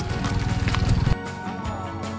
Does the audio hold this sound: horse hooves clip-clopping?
yes